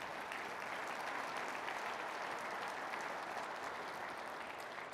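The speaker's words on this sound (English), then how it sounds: "Please, a round of applause for all of our sponsors," Sustained applause from a conference audience at an opening ceremony, a steady dense wash of many hands clapping, even and continuous throughout with no voices standing out.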